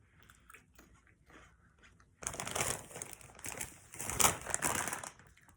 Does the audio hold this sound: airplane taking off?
no